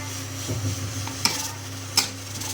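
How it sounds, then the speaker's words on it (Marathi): Grated coconut fries in oil in a pan, heard as a low, close sizzle with soft stirring scrapes and two sharp clicks of a utensil against the pan. "त्याच तेलामध्ये आता आपण खोबरं फ्राय करून घेऊया"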